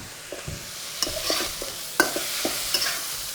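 Green beans stir-fried in a hot wok with chili bean sauce (doubanjiang), dark soy and a little sugar, giving a steady sizzle broken by scraping stir strokes and sharp clinks of a spatula against the pan, with no voices.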